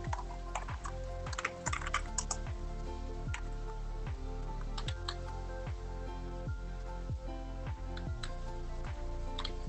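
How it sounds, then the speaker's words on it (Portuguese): Computer keyboard keys pressed for a Photoshop shortcut: a steady run of close, quiet clicks and taps over a low background hum, with no talking. "o ideal é a gente dar um Ctrl J para copiar a camada"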